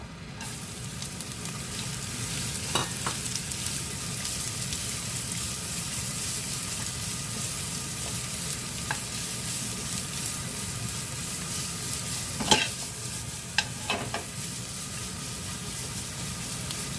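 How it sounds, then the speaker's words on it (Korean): Carrots stir-fry in a little oil in a preheated pan, a steady loud sizzle throughout with a few scattered clinks of the utensil against the pan. "팬을 좀 달가놓은 상태에서요. 저는 당근부터 어, 볶아보도록 하겠습니다"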